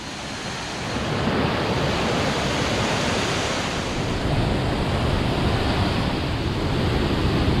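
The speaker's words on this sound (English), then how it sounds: "It's like we're hugging the banks of this gnarly river at the moment" Continuous broad rushing of a rough river beside a walking trail in Thailand roars steadily and loudly nearby, a dense unbroken wash of noise with no voices.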